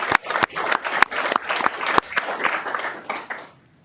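Audience applause at a county commission meeting honoring public service, a burst of sharp, uneven claps from a modest crowd that thins and fades out near the end.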